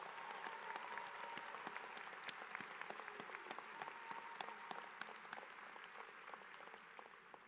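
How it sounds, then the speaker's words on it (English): Audience applause fills a university agricultural college commencement ceremony, a steady, dense patter of many hands clapping at moderate distance, continuous throughout without speech. "Give them a round of applause."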